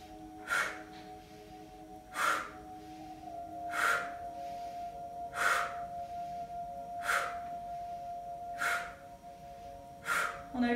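Breathing during vinyasa yoga comes as seven evenly spaced, close breaths, one about every one and a half to two seconds, each a soft rushing puff over a faint hum.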